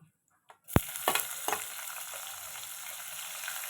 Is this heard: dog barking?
no